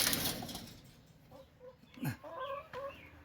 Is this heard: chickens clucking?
yes